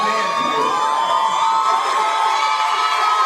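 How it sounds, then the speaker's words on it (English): A loud, dense crowd at a boxing tournament in a Bronx gym cheers and shouts continuously after a split-decision fight, whoops and high voices rising over a steady roar. "Look at this crowd. They're crazy."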